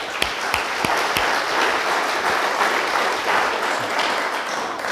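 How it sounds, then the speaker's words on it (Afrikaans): A church congregation applauds a newlywed couple at a Good Friday service, dense steady clapping that holds at full strength for several seconds, with a few sharper claps standing out near the start. "kom ons gee vir hulle 'n lekker hande klap"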